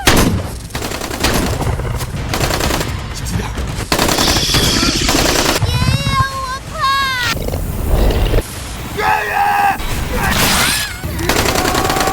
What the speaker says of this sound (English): while others fire furiously at the monster, but their attacks are ineffective